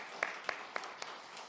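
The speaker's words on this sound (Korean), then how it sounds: "크게 박수로 우리 격려하겠습니다" Korean church congregation applauding during an online Sunday service, heard as a faint, thin round of clapping with a few distinct sharp claps standing out over a soft background.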